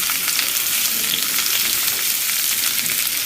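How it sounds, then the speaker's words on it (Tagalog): Garlic sautéing in hot cooking oil in a pan, a steady close sizzle and crackle of frying that continues without pause, with no talking. "maglalagay na tayo ng mantika at gigisahin natin ng bawang"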